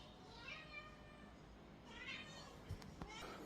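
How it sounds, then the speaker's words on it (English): A cat meows a few times nearby, drawn-out wavering cries that rise over faint background voices, followed by a couple of sharp knocks. "You're not coming in here with all that meowing."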